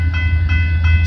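CP eastbound freight train 134, led by a heritage unit, passing on the Windsor and Galt subdivision in London, Ontario, in January, a loud, close, sustained rumble with steady tonal horn-like drones.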